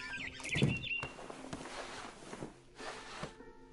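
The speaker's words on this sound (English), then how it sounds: "Then I heard chirping outside my window. It was a barn swallow going back to her nest." A barn swallow chirps outside a window in the video game What Remains of Edith Finch, a few bright high chirps early on, followed by softer scuffling and rustling movement close by.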